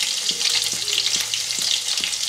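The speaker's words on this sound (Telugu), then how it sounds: "ఇప్పుడు పచ్చిమిరపకాయలు అల్లం ముక్కల్ని నేను ఆయిల్లో వేసాను నూనె మరిగిన తర్వాత, అది కాస్త వేగనివ్వాలండి" Green chilies and ginger pieces frying in hot oil for Andhra-style egg bhurji, giving a bright continuous sizzle with a few soft, evenly spaced taps underneath.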